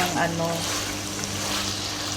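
Steady, close sizzling of chicken frying in a hot pan for salpicao, a continuous crackling hiss with a low hum underneath.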